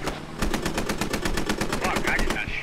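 Rapid automatic gunfire in the military shooter Squad striking the player, a fast even string of loud sharp shots close by, running continuously for a couple of seconds.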